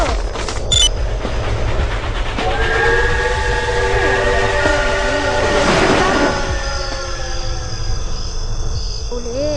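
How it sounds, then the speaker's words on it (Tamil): A train rumbles past at speed with a steady roar, a horn sounding in long tones, and insects chirping in the background. "ட்ரெயின் இவ்வளவு ஸ்பீடா போகுது."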